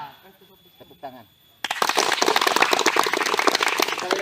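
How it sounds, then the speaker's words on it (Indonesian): A youth community gathering breaks into clapping, a crowd of hands applauding loudly and steadily after a short stretch of voices at the start. "Tepuk tangan."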